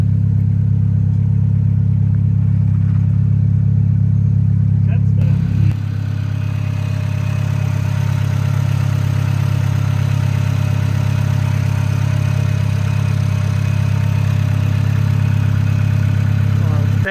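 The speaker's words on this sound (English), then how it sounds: "this was my first time ever seeing or being in front of a car that drifts" A drift car's engine holds a steady, loud low rumble at a drift show, idling and revving with a brief shift in tone partway through, continuing without pause under faint background noise.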